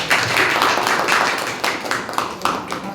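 A church congregation claps hands together in Kolhapur, a dense spread of overlapping claps with a few sharper accents, steady and fairly loud throughout.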